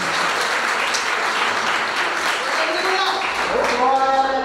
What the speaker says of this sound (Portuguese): Vamos receber a serva do Senhor com palmas.